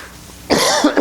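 A man gives a short, close cough, a sharp burst followed by two smaller hacking catches, during a Spanish-language sermon.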